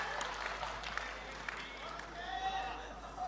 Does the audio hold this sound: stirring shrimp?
no